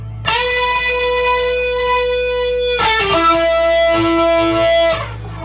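Distorted electric guitar plays a sustained solo lick with long held notes, a bend and a sliding pitch change, loud and alone.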